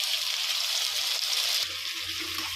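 Half a cup of water is poured into a pan of potato and brinjal fry, a steady close rush and trickle of liquid that shifts and thins near the end, with no talking.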